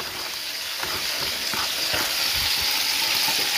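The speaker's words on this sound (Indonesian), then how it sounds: "Ini yang kita goreng." Food sizzles steadily while frying in a pan at a forest hut, a constant bright crackling hiss with small pops throughout, close and unbroken, with no talking over it.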